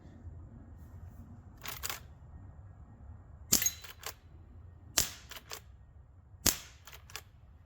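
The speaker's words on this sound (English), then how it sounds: "let's run 10 rounds through the lever action" Lever-action Winchester 1894 rifle fired in a slow series, about four sharp, loud cracks spaced over several seconds, each followed by quick metallic clicks of the action against a quiet background.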